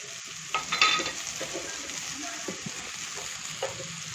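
Potatoes being stirred and fried in a pan with coriander powder, turmeric, chili powder and salt, a steady sizzle under repeated scraping strokes of a spoon against the pan, close and moderately loud.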